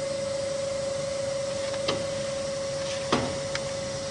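An automatic edge banding machine runs as a panel edge is fed through its clamping unit. A loud, steady mechanical drone with a constant hum continues throughout, with a couple of brief knocks partway through and no talking.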